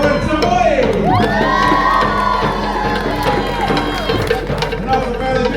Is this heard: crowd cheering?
yes